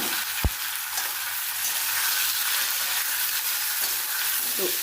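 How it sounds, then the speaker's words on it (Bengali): Boiled, cut potatoes frying in hot oil tempered with whole cumin, a dense continuous sizzle close to the pan with a single sharp knock near the start and faint stirring scrapes. "তো এই আলু ভাজাটা এরকমভাবে ভাজলে পরে তার মধ্যে একটা আলাদা ফ্লেভার আছে।"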